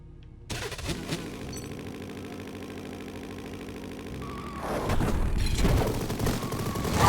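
Machine gun fire from the video game Mighty Goose: a long, steady stream of rapid shots that starts abruptly and swells louder and busier toward the end.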